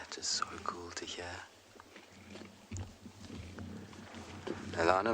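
Lions on a sunrise safari drive at Tswalu growl at each other in low rumbles with a brief escalation, while people speak softly over the sound.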